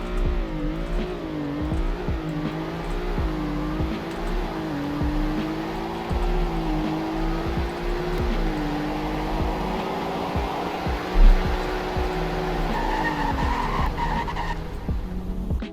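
Simulated car in the Roblox game Greenville accelerating hard in a speed test, engine revving steadily with repeated gear-shift swoops and continuous tire squeal, loud and close throughout with no talk.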